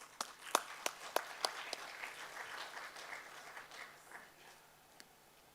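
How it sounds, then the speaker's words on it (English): A conference audience at a men's gathering on positive masculinity gives quiet applause: a handful of sharp, distinct claps at first, then thinning into a soft, distant patter that fades, with one last isolated clap near the end. "on vous accueille avec applaudissements"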